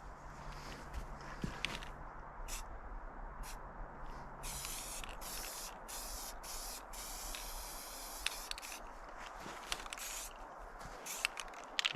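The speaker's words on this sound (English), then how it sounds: "maybe mist it on a little bit from afar" Repeated hissing bursts of aerosol spray paint misted onto a chainsaw-carved wooden turtle, short and long pulses in irregular rhythm, close by over a low background rumble.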